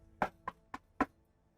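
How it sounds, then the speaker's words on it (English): Four sharp knocks on a door, evenly spaced and fairly close, ring out against quiet surroundings with no talking. "then you hear that knock."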